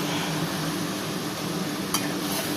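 Mutton being browned and sautéed in a pan for a Jamai Sasthi meal, a steady loud sizzle with soft stirring scrapes and a brief metallic clink near the end, no talk.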